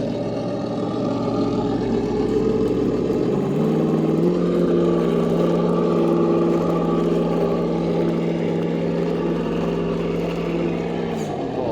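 A Traxxas TRX4 Bronco RC car with brass upgrades climbs a staircase, its small electric motor whining steadily close up with a shift in pitch partway through as it labors and eases off.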